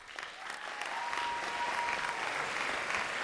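Live audience applause fills the room, a steady wash of clapping hands that swells in the first second and holds at a loud, even level with no talk over it.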